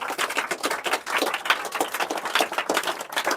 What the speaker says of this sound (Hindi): इसके लिए भी जोरदार ताली होना चाहिए